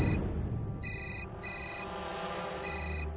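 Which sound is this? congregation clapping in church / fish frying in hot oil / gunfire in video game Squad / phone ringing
phone ringing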